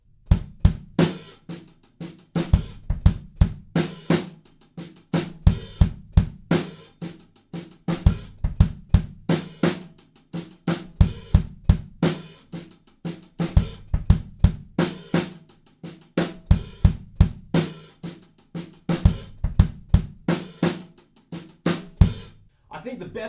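Drum kit plays a harder groove, with steady punchy kick and snare hits, constant hi-hat and quiet ghost notes between them in a busy repeating pattern, loud and close for the whole stretch.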